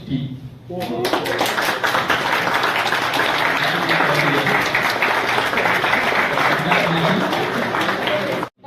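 Audience at a university award ceremony bursting into sustained, dense applause that stays loud and steady for about eight seconds, then cuts off abruptly.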